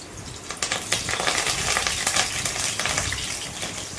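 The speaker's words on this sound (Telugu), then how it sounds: "ఇది కొద్దిగా వేగే వరకు వేయించుకుందాము" Green chillies and curry leaves frying in hot oil, a loud, close, continuous crackling sizzle with stirring scrapes throughout.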